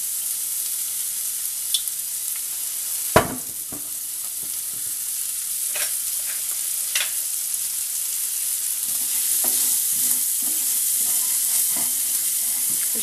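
Onions sizzle in olive oil in a pan with a steady, close frying hiss, a sharp knock near the start and the scrape of a utensil stirring now and then.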